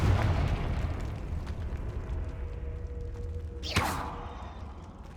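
A Confringo fire spell bursts in Hogwarts Legacy, a sharp explosive whoosh near the four-second mark over a dense, rumbling game soundscape.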